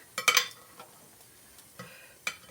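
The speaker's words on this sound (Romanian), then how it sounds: "Hai să vedem cu două linguri să amestec." Two spoons stirring and tossing home-cooked Banat-style food in a pan, giving a few short scraping, clinking bursts separated by quiet gaps, close and moderately loud.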